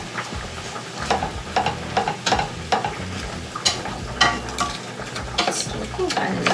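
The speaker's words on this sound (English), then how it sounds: "And just give it a nice stir. And I'm gonna like squish the Beyond Burger meat." Beyond Burger meat sizzling and frying in a pan for lasagna, with repeated scraping stirs and soft squishing over a constant crackle.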